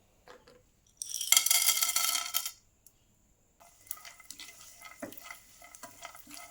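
Almond gum, an edible gum, frying in hot oil in a home kitchen, heard as a short burst of close, crackling sizzle, then quieter bubbling and soft stirring clinks after a brief pause.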